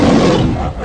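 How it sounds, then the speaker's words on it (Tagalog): Lion roaring in a storybook tale, one loud, deep, sustained roar filling the moment alone, fading slightly toward the end. "Nagising ang leon at ito ay sumigaw na dumadagundong"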